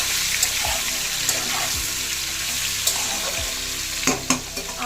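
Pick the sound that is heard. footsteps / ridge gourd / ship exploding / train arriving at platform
ridge gourd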